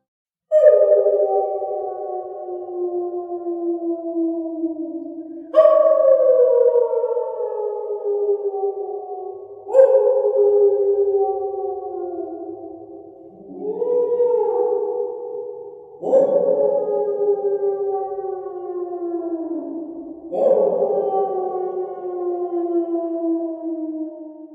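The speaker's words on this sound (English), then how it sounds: "Dog howling." A dog howls in six long, drawn-out wails, each sliding down in pitch and separated by short pauses, loud and clear with nothing else behind.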